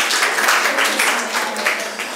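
Applause from an audience on a quiz show after a correct answer, a dense, steady round of clapping lasting a couple of seconds.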